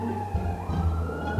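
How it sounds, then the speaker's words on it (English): A police siren wails in the distance in London, steady and fairly faint beneath low rumbling background noise, with no one speaking. "Someone's alarm is going off and there's a police siren."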